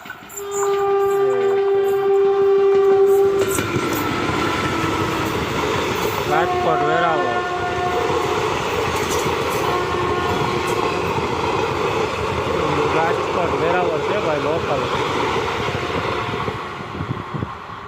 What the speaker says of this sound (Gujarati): આવી ગઈ ટ્રેન